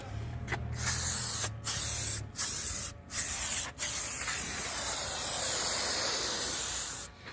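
Silicone spray aimed at a car door rubber seal on a Renault Megane 2, loud close hissing bursts separated by brief gaps, then one long continuous spray.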